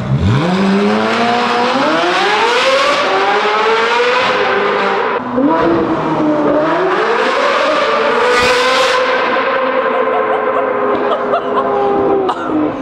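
A powerful Ferrari 458 Italia V8 with a full IPE exhaust roars and revs repeatedly as it accelerates away, pitch sweeping upward in several surges, loud and close throughout with no talking.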